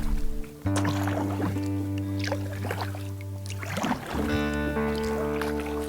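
Kayak paddle strokes splash and swish through lake water at an unhurried pace, with a steady low hum running underneath.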